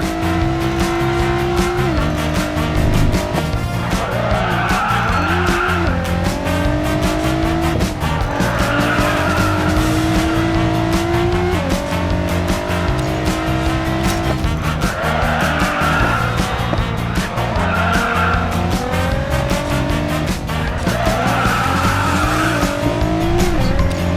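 A Nissan GT-R R35 engine in the racing game Racing Master roars continuously, its pitch climbing and dropping through gear changes, with tire squeals and skids mixed into the loud, steady game audio.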